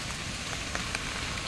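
Heavy rain patters on a hard surface near a bus, an even hiss with a few distinct drops standing out.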